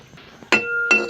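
A metal pot lid lifts off a pot of boiling monggo, two sharp clinks close by with a ringing metallic tone between them.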